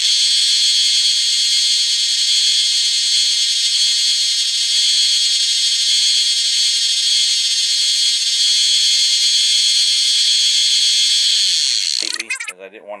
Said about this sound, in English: Okay, so we're just going to clean that up on our belt sander.